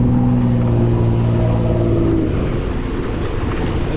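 Car traffic on a Brooklyn road at morning rush, a loud continuous roar of passing vehicles with engine drone and rising tyre rumble, close by and without voices.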